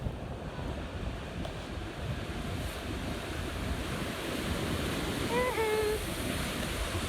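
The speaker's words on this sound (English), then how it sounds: "Woo, it is windy." Strong wind roars over the seashore with surf washing in underneath, a steady broadband rush that buffets the microphone throughout, while a brief faint whistling tone rises near the end.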